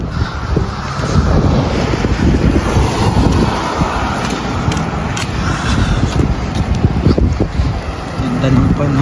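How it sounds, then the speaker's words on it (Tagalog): Strong wind in stormy weather near Smoky Lake, Alberta, buffets the microphone in loud, continuous rumbling gusts, with someone speaking now and then beneath the roar. "Lakas ng hangin."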